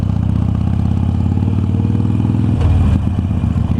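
A black Harley-Davidson Iron 883 motorcycle rumbles loud and close. Its low engine note holds steady, then surges briefly as the rider gives it throttle, with some mechanical clatter.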